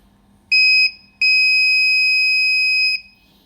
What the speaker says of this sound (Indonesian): buzzer menyala